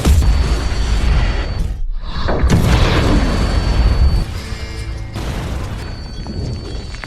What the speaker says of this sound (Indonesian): Tak lama berselang terjadi sebuah ledakan besar yang menewaskan seorang bawahan Teddy.